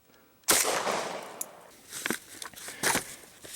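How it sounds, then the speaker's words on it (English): A shotgun fired at point-blank range into a book gives a sharp, loud blast, followed by a few quieter cracks and thumps as debris settles, with another strong impact near the end. "At point blank, the shotgun just ripped a hole right through him."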